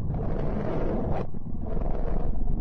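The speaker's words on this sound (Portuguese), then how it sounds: "Esse é o som que o planeta Mercúrio faz." A sonification of the planet Mercury gives a dense, rough roaring rumble like harsh wind, loud and continuous with a brief dip in brightness partway through, with no talking.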